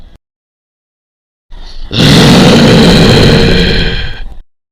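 After a brief quiet, a loud, harsh growling roar swells up and holds for a couple of seconds before cutting off.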